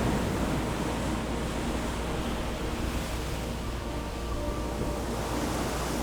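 Sea waves and moving water, a continuous broadband wash of surf at steady loudness, with no distinct breaks between waves and no voices.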